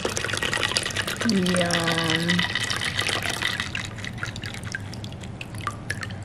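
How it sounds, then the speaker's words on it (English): A Cosmopolitan cocktail poured into a martini glass in a college apartment, a steady close trickle and drip of liquid running for several seconds while someone speaks briefly over it. "Pouring mine now."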